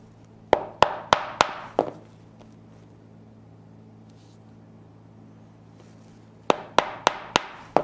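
Stitching holes being punched in leather for a clutch bag, a quick run of five sharp mallet strikes on the punch, a long quiet pause, then another run of five strikes, close and crisp.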